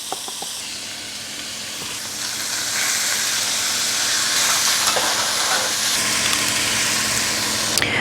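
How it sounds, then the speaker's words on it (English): Green beans and jasmine rice fry in coconut oil in a pan, a loud steady sizzle and hiss that swells after a few seconds and continues with faint stirring clicks, no talk. "I tossed in the pan 10 grams of coconut oil, cooked 100 grams of green beans"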